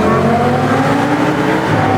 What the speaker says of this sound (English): The only thing better I can think of than just driving a Huracan on a beautiful day is doing it underneath a